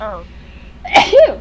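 A single short sneeze bursts out close by, preceded by a brief spoken exclamation, during play of the game Syberia.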